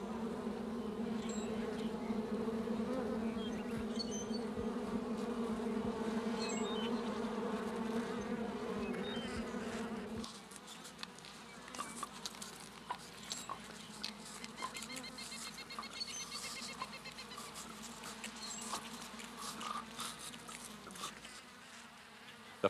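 A honeybee colony hums steadily in an East Texas oak-hickory forest, a loud dense buzz for about ten seconds, then thinner scattered buzzing of individual bees darting close by over quieter woodland air.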